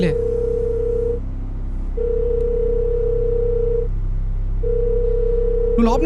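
A ringback tone sounds as a phone call goes unanswered: long, steady beeps about two seconds each, separated by pauses, over a low background hum. A voice briefly breaks in near the end.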